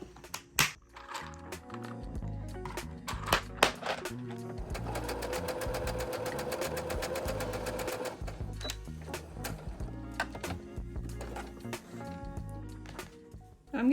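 A sewing machine chain stitches fabric pieces for a mug rug with orange thread, a loud continuous mechanical whir in the middle stretch framed by shorter bursts and clicks, with no voices.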